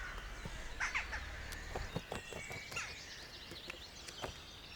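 Jackdaws give short, sharp, metallic calls, several scattered chacks and a quick burst of calls heard fairly near over a quiet outdoor background.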